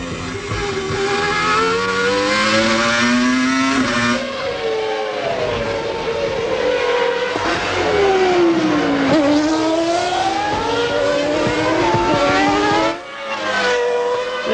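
Formula One cars at the 1997 Australian Grand Prix in Melbourne, loud high-pitched engines screaming and shifting through gears as they race past, continuous and close with pitch swooping up and down.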